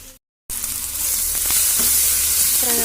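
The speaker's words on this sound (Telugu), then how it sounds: "ఇందులో 1 టేబుల్ స్పూన్ అల్లం వెల్లుల్లి పేస్ట్ వేసుకుని బాగా ఫ్రై చేసుకుందాం" Ginger garlic paste sizzling steadily in a hot pan for a potato and tomato curry, a continuous close frying hiss after a brief silent gap, with faint stirring clinks.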